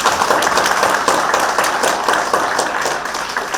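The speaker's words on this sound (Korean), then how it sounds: "우리 다 같이 이렇게 박수 한번 치실까요?" A packed audience at a book launch gives a sustained, dense round of applause, loud and close throughout with no pauses or voices over it.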